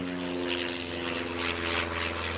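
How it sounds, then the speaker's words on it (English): A propeller airplane passes overhead outdoors, a steady droning buzz with a faint rhythmic pulse, heard alone without speech. "I thought the car sounded like a plane, but it's actually a plane going by."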